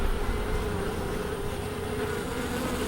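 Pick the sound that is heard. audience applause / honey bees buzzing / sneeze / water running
honey bees buzzing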